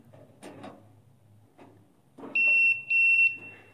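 A non-contact voltage tester gives two short, high electronic beeps close together after faint handling noises, clear and fairly loud against a quiet room, while checking a fluorescent light fixture.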